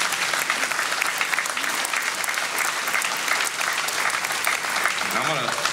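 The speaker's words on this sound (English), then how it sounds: "give yourselves a big round of applause" Loud, continuous applause from a crowd at a community salute to heroes event, many hands clapping steadily together at close range, with a voice briefly audible near the end.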